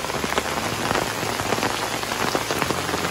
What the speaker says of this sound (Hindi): और भाई काफ़ी तेज़ बारिश हो रही है